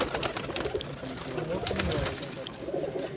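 High-flying pigeons, Teddy and Golden Kamager among them, coo in a breeding setup holding thirty to forty pairs, a busy chorus of low coos and wing rustles close by, with a voice speaking briefly.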